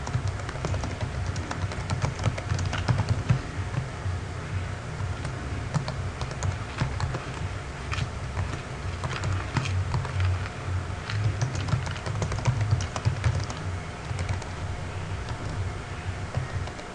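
Steady clatter of a computer keyboard being typed on while writing HTML list tags, rapid irregular keystrokes close by with no voices.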